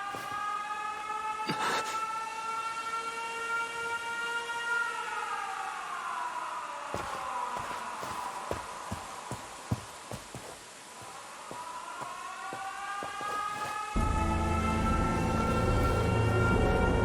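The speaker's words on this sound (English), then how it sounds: "An air raid. They're trying to bomb the factory." A wailing air raid siren in the video game 13 Sentinels: Aegis Rim rises and falls in long sweeping tones, persistent and fairly distant, with scattered clicks and a louder rumble near the end.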